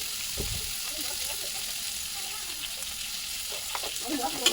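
Chopped onion sizzling in hot oil while being stirred, a continuous close frying hiss with soft scraping and occasional spatters, no talking.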